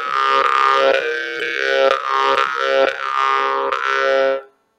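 A Vilyuy-style Yakut khomus jaw harp plays close and alone, a softer, slightly higher twanging drone with rhythmic plucks and gliding overtone shifts, ending suddenly after a few seconds.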